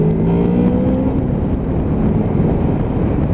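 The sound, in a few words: Honda VFR 800 motorcycle twin underseat exhaust whine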